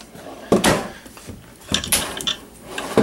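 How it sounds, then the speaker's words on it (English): Drawers on ball bearing guides in the kitchen of a 2015 Thor Motor Coach Palazzo 36.2 motorhome slide and thump shut, several short close knocks and rolling slides spaced across a few seconds. "You have three drawers here, all on your ball bearing drawer guides."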